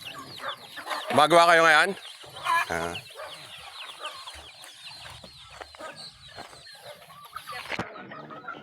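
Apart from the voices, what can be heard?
chickens and chicks clucking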